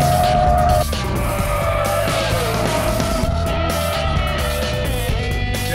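A Mitsubishi Lancer Evolution is driven flat out on a race track, its engine droning loud and steady with tyre squeal and skidding through turns, close and continuous.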